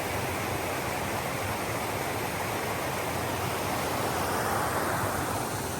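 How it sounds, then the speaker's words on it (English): Steady, dense rushing roar of a mountain waterfall near Trummelbach Falls in Lauterbrunnen, a constant broadband wash heard from close by with no pauses or voices. "Look at that. There's the waterfall."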